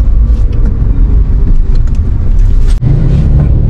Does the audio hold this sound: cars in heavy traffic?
yes